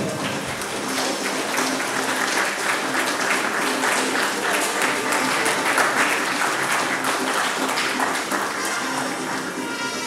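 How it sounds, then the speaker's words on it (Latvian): An audience at a bodybuilding cup in Latvia applauds junior competitors, with a dense, steady clapping that holds at an even level for about ten seconds, with some crowd voices mixed underneath. "Aplaus junioriem!"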